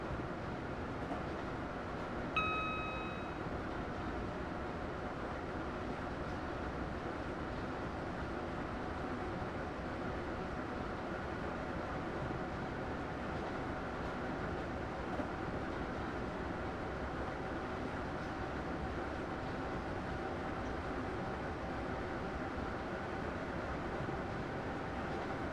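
A train in Train Simulator 2017 rolls along steadily, a continuous low rumble and rail hum that holds at an even level throughout, with a brief faint tonal chirp early on and no other distinct events.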